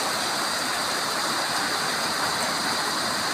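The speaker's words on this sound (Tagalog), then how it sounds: "Grabe guys, ang lakas ng ulan dito sa amin." Heavy rain pours steadily during a storm, a dense, continuous broadband hiss that stays close and loud throughout with no voices.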